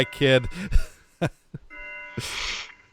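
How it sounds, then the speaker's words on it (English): A house doorbell rings with a brief sustained electronic tone partway through, after a person speaks and breathes nearby. "That's the doorbell."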